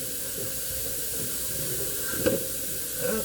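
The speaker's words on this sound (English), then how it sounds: "Bob is deep frying the peels from our potatoes." Potato peels deep frying in hot oil give a steady, close hiss and sizzle, with a brief sharper crackle partway through and a fainter one near the end.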